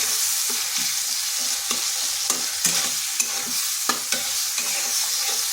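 Ginger and green chilli paste sautés in a hot pan for a vegetarian potato and eggplant dish, a loud continuous sizzle punctuated by repeated scraping and tapping strokes of a spatula, with no talking.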